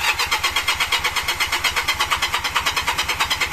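A Magpower Legender motorcycle engine running close by, its throttle blipped slightly so the steady, rapid pulsing rises a little in pace and pitch, loud and continuous with no talking.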